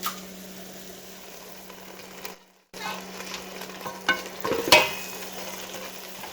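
Sausage goes into a pot of cooking gumbo vegetables, with a low constant sizzle and hum, a brief dropout of sound, then louder clattering stirs and a sharp splash-like burst near the end.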